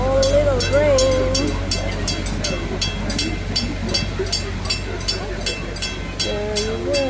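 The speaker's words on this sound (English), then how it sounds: "Train is crossing." Small park train at Gatorland passing nearby, a steady low rumble with regular rhythmic clacks of wheels, with someone talking over it at times.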